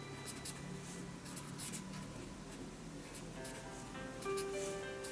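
Marker or chalk scratches across a board during a statistics lecture, faint scribbling strokes in short bursts over quiet room tone, with no voice.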